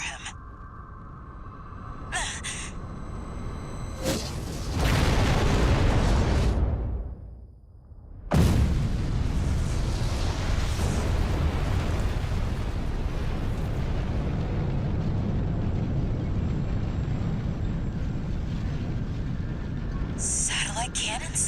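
Heavy booming blasts and a long roaring rush of satellite cannon fire in Titanfall 2 fill the clip, with a brief lull before another sustained wave of loud explosive noise.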